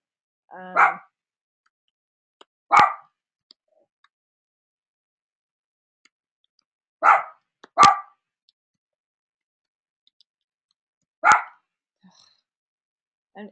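Sparse, sharp video game dog barks in a quiet setting, single yaps spaced seconds apart with a quick double bark in the middle.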